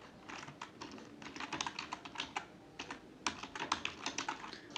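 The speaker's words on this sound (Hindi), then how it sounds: "भाई मैं टाइप करता हूँ" Fast typing on a computer keyboard in Microsoft Word produces a close, quiet run of crisp key clicks in irregular bursts, with no speech.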